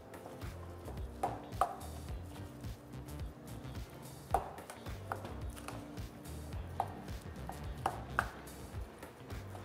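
Burger meat is mixed by hand with nutmeg, salt and pepper, giving soft irregular squishing and patting sounds with occasional sharper taps, close and fairly quiet.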